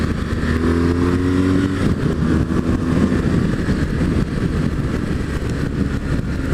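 A 2013 BMW R1200GS motorcycle accelerates in sixth gear from about 50 mph, its engine a steady, loud low rumble with a rising tone, heard close and continuous with no talk over it.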